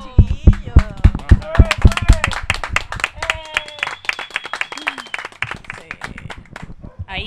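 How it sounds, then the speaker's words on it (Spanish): An audience at a TV show applauds the grill cook with loud, sharp, uneven claps, mostly at the start, while people talk and call out over the clapping. "Pero aplaudan con ganas, pues, chiquillo."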